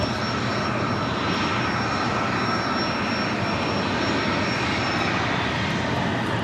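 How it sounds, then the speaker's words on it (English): An Embraer Legacy 650E business jet arriving at LAX gives a steady, broad engine roar that holds constant and fairly loud throughout, with no talking. "This Embraer Legacy 650E coming in from Van Nuys."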